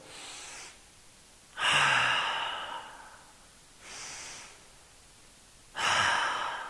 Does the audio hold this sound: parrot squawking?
no